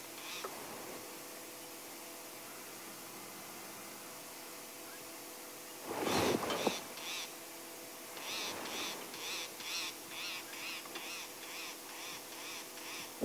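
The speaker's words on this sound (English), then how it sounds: "Listen to the bird alarm calling at the hyena," Repeated bird alarm calls ring out at a hyena during a sunrise safari drive in Sabi Sand, South Africa: a burst of harsh noise, then a rhythmic run of sharp calls over a steady vehicle hum.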